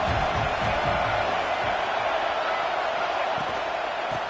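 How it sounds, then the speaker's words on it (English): A stadium crowd at a Penn State college football game roars in a dense, continuous wall of noise, with whoops and cheers blending into a steady, distant rumble throughout. "This crowd rising up, sensing that its defense needs some help."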